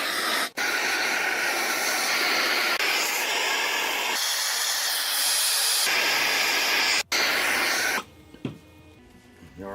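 A torch roars with a steady broadband hiss while heating a steel pipe ahead of MIG welding for a micro wind turbine mount, cutting out briefly twice before fading to quiet near the end.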